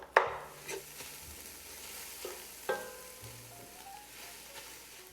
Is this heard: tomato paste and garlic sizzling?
yes